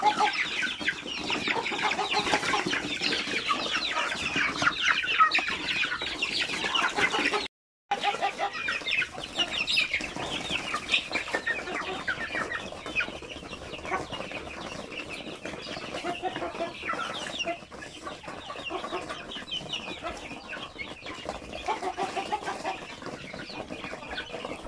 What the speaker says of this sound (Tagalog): Ito ay mga basilan din ito ng mga manok.